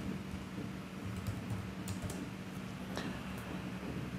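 Typing on a computer keyboard while entering a poll question in Outlook, soft scattered key clicks under a steady low background hum, fairly quiet and without talk.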